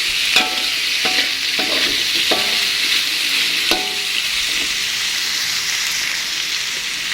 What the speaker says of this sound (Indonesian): Masak sebentar lagi ya teman-teman, sampai kecapnya dan bumbunya menyerap merata ke tempenya.